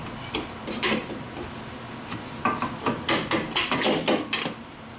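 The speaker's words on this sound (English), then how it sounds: "you kind of got to pull it out of that rubber bushing that's up there" Honda Civic rear shock absorber being worked loose from its upper rubber bushing, a series of close, sharp knocks and metallic clunks, sparse at first then coming in quick succession.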